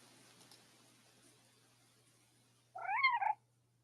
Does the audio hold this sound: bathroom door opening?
no